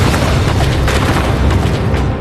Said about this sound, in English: Heads collide at 30 kilometers an hour, an impact that could kill a human instantly.